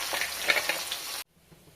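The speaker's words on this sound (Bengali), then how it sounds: "আগে থেকে কুচিয়ে রাখা পেঁয়াজটা আমি তেলের মধ্যে দিয়ে দেব।" Chopped onion hits hot oil already holding whole cardamom, cloves and cinnamon for a biryani, giving a loud, steady sizzle that cuts off abruptly after about a second.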